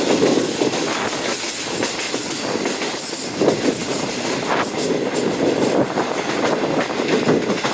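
Shalimar Express train running on rails, a steady loud roar of wheels and carriages with faint clickety-clack throughout, close and continuous with no voices.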